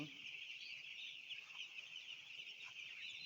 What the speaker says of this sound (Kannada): ಇದೆ ನೋಡ್ರಿ ನಮ್ಮ ಕೋಳಿ ಫಾರ್ಮ